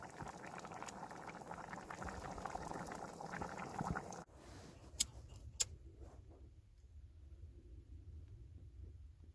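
Soup and a kettle boil on a wood stove inside a hot tent, a steady bubbling simmer that drops to a softer boil partway through, with two sharp ticks near the end.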